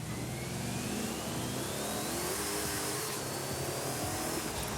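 A 1982 DMC DeLorean's engine revs hard in the Forza Horizon 5 video game, giving a loud, continuous droning roar with a rising whine that holds steady throughout, with no voices over it.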